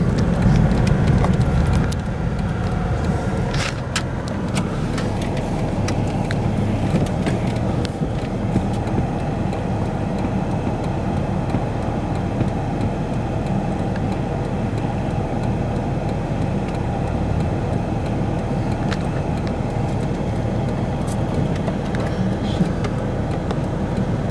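Cars pass along a road in a steady, broad rumble of traffic noise heard close up, with a few sharp knocks and clicks near the start and faint talk buried under the engine drone.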